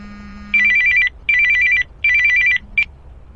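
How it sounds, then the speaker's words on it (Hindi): A telephone rings in three loud, even electronic bursts, each about half a second long, with short gaps between them and the start of a fourth burst at the end. No one speaks. "अचानक 24 परगना वेस्ट बंगाल से मेरे पुराने थिएटर के सीनियर तपन दा का फोन आया।"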